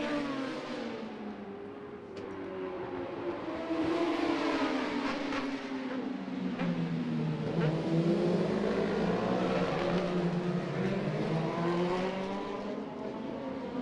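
Racing motorcycles on the sighting lap of the 2023 Macau Motorcycle Grand Prix street circuit give a continuous, fairly distant engine whine that rises and falls in pitch as the bikes accelerate and brake.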